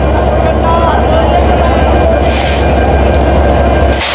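A crowded passenger train rumbles loudly past nearby, with steady rolling rail noise and brief high squeals, and voices faintly underneath.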